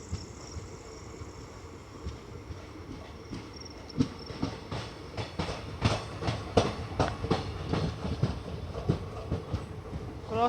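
Karnataka Sampark Kranti Express rolling along the rails, a steady rumble building into rhythmic clickety-clack wheel beats that grow louder and denser, heard from nearby with faint insect chirps in the background.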